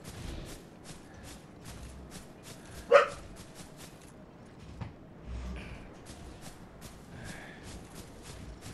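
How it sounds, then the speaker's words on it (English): Pet dogs barking indoors: a couple of sharp, moderately near barks stand out briefly over a low, steady background hum. "Guys, I love my dogs. They just bark."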